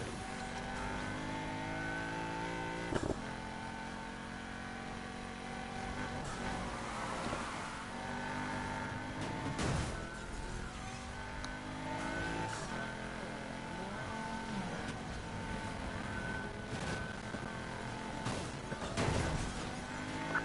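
Chevrolet Corvette racing engine in the game Need for Speed Heat, with loud sustained revving and shifting tones that rise and fall continuously through gear changes, plus occasional sharp bursts, heard throughout without any talk.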